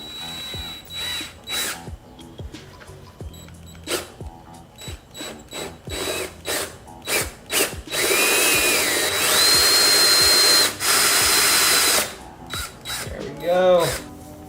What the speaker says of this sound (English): stick on the hole saw, center it on, cross my fingers and drill